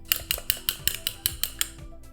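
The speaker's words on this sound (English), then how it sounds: "I'm actually going to crack and beat one egg" A single egg beaten briskly in a clean mixing bowl, giving a steady run of quick, close clinks against the bowl at about five per second, fairly quiet with no talking.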